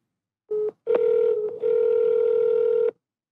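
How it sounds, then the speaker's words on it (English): A telephone signals an incoming forwarded call on a business line with a brief electronic tone, then a longer sustained ring tone, clean and loud with nothing else around it. "and then the phone will ring with that new call"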